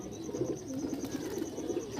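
Soft, low cooing of Delhi pigeons in a loft repeats in a gentle rhythm against a faint, noisy background, with a high steady tone running underneath.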